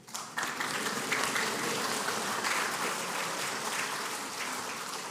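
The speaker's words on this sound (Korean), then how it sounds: "박수 한번 쳐주세요." A church congregation at a Sunday worship service applauds steadily, a dense, even wash of many hands clapping that fills the room for the whole stretch.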